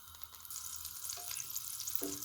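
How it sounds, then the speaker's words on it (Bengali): Bay leaf frying in melted butter in a pan for a vegetable and tofu soup, giving a steady soft sizzle with a few faint stirring clinks, close and moderately quiet with no voices. "এখানে তেজপাতাটা একটু বাটারের সাথে ভেজে নিব"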